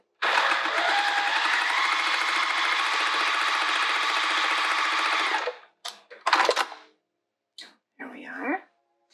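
A sewing machine runs steadily for several seconds while stitching fabric for a coaster, whirring close and continuous, then stops, followed by short handling noises and a brief voice.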